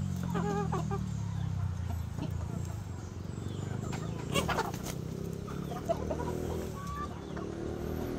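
Chickens cluck and squawk nearby through the whole stretch, with a person talking over the birds.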